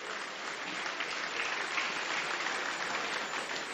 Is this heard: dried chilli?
no